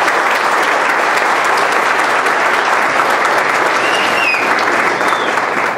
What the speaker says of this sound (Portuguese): dêem uma salva de palmas a todos os sindicalistas do Brasil.